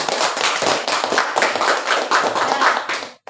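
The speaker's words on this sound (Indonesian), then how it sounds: "Oke, aplaus dulu." Audience applause at a group presentation event, a steady burst of many hands clapping close by for about three seconds before cutting off abruptly.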